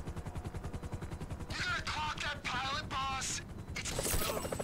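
Gunfire in the GTA 5 story mode as Trevor shoots at a pilot comes as a few sharp bursts over a steady mechanical drone and game sound. The shots are moderately loud and clustered in the second half.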